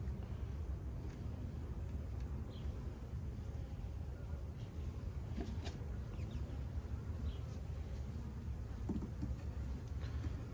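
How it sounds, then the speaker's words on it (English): A one-week-old swarm of honey bees in a hive gives off a soft, steady, low buzzing drone that continues throughout, with occasional faint clicks and individual bees passing nearby. "Look at how many bees. This is a 1 week old swarm."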